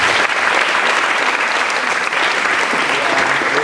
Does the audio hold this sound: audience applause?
yes